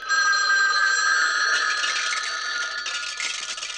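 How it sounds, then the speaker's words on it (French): Several telephone bells ring at once, a bright, continuous metallic trill that grows denser as more phones join in. "bizarre tous ces téléphones qui sonnent en même temps"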